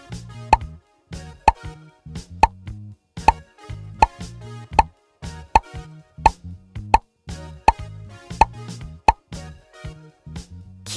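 Bubbles pop one by one as they are tapped in a preschool number game, about twenty crisp, bright plops at a fairly regular pace over light game music.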